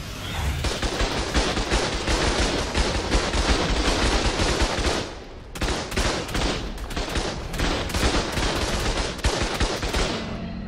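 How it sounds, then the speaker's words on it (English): A turret fires in the game Ark Survival Evolved on the Crystal Isles map, loud rapid automatic bursts packed densely together with one short break midway. "Just want to turn a turret on because that's killing something."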